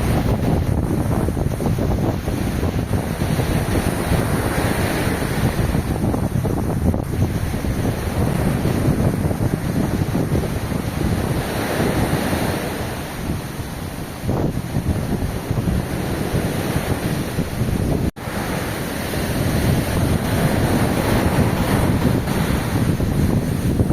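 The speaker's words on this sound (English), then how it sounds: "These are the Habagat Winds." Strong Habagat monsoon winds blow steadily by the sea beneath coconut trees, a loud continuous roar with gusts buffeting the microphone and surf washing in behind, no voices throughout.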